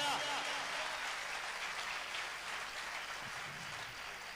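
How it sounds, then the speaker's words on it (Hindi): A congregation at a Christian testimony gathering applauds in a sustained, even wash of clapping that sounds fairly distant and quiet and holds steady for several seconds. "जोरदार ताली उस परमेश्वर के लिए"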